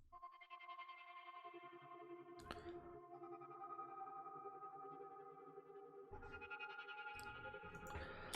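Synth loop treated with tremolator, reverb and crystallizer effects for a beat-making sample, with steady shimmering layered tones interrupted by brief percussive hits near the middle and toward the end, quiet and without speech.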